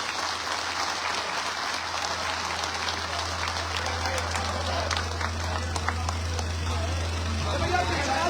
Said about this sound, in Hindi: जोरदार ताली बजा करके माननीय प्रदेश अध्यक्ष जी का स्वागत है।